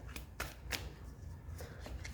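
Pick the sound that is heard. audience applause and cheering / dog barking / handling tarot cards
handling tarot cards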